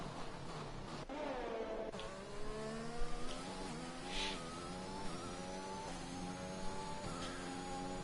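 A Mercedes race car in a racing game on a hot lap at Bahrain, its engine rising through the gears in steady upshifts, a strong continuous mid-pitched whine, fairly close and even in level.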